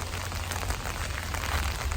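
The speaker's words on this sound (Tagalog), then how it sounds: "pakalakas ng ulan, non-stop ng madaling araw pa" Heavy rain falls steadily on surfaces at a campground before dawn, a dense, even patter that is fairly quiet and continuous, with no one speaking.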